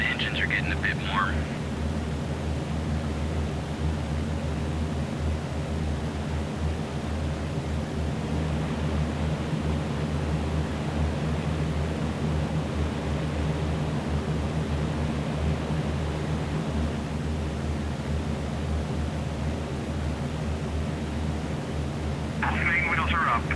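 Continuous heavy drone of a B-17 bomber's four engines in flight in Prepar3D, a dense low roar holding steady for the whole stretch, with brief talk at the start and end.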